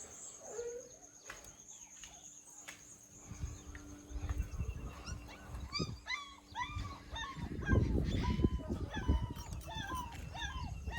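High, repeated whimpers and whines from a puppy, close by, over low rustling and background noise, with chicken-like clucks mixed in.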